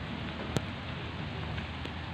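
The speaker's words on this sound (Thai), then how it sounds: "ตอนนี้ก็ยังมีฝนตกลงมาเรื่อยๆนะครับ" Steady rain falls at a construction site with a dump truck, a dense, even hiss throughout with one brief sharper tap near the middle.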